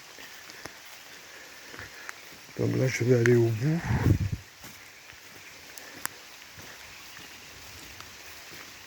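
Steady soft rain hiss fills the background throughout at a pond, while someone speaks briefly partway through.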